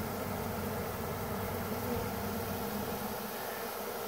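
A swarm of honey bees, a ball of bees clumped on the ground after falling from a limb, hums in a steady, dense drone that holds at a constant low level throughout, with no voices.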